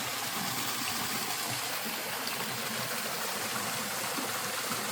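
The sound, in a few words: small waterfall in a creek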